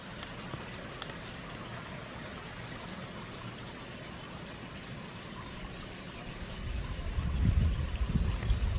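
Steady broadband rush of flowing water from a mountain stream running beside a house, continuous, growing a bit louder and fuller near the end.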